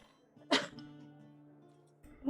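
A single sharp sneeze-like burst erupts from a quiet room, brief and fairly close, then fades into a low steady hum before another short noise at the end.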